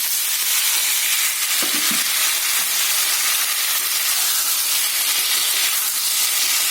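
Tomatoes tipped into hot oil tempered with ginger, mustard and a dried red chilli hiss and sizzle loudly and steadily, with a brief clatter of the pour early on.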